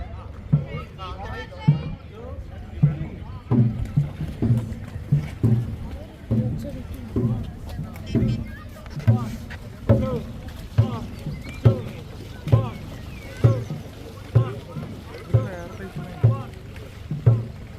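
A Kerala-style snake boat race held by Malayalis in Ireland, with a loud, steady rhythmic beat of oar strokes and splashes repeating about every second, under wind and crowd noise with voices mixed in.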